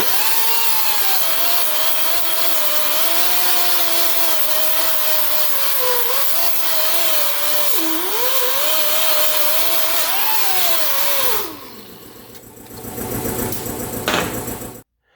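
Angle grinder fitted with a 24-grit disc grinding down welds on sheet metal, a loud continuous whine with wavering pitch that runs steadily, then drops away near the end as the disc spins down and scrapes lightly.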